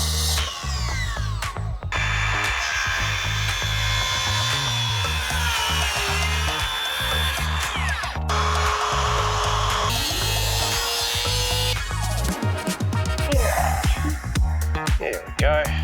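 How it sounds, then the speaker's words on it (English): A power drill bores a hole through a wooden gate for the latch, whirring and straining in several bursts with pauses and changes in pitch. The drilling sounds close. "now I just need to put a hole in here so we can access the latch from the inside"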